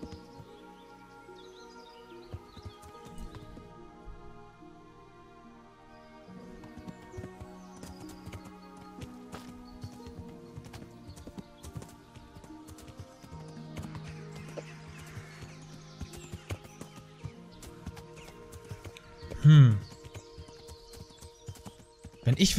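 Horse hooves clip-clopping at a steady gallop through a forest in the medieval video game Kingdom Come Deliverance, with occasional whinnies and faint birdsong over a game music bed, and a louder snort or thud near the end.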